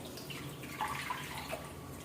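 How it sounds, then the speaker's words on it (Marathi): A little water trickles and splashes into a pan of kulith flour and onion curry, faint and brief, with a few small drips standing out from the quiet room. "थोडंसं पाणी याच्यामध्ये"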